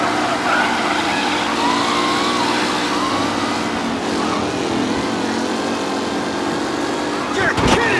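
A car driven aggressively in Mafia: Definitive Edition: a loud, steady engine roar with a wailing, siren-like tone running through it.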